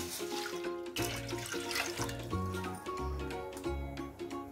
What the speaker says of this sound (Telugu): 2 గ్లాస్ వాటర్ పోసుకుందాం.